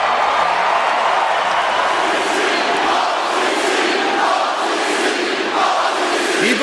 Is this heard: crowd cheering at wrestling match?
yes